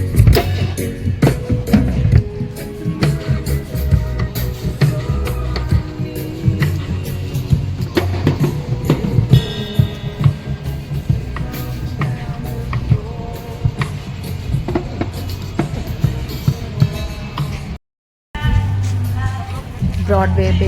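A street band plays live music at night on the Virginia Beach boardwalk, loud and continuous with crowd babble mixed in, briefly cutting out near the end.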